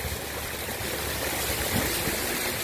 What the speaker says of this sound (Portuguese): Água lavando a pista aqui,